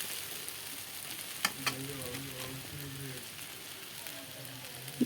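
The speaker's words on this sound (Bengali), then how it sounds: "পেঁয়াজ আর লঙ্কাগুলো এখন দিয়ে দিলাম ভাজাতে।" Onions and chillies hiss and sizzle in hot oil alongside fried mixed vegetables and soybean chunks, a steady crackling fry with a couple of sharp clinks of a spatula against the pan.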